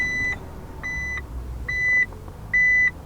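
A car's reversing sensor beeping after the ignition is turned on and the car is shifted into reverse, four clear evenly spaced electronic beeps over a low engine hum.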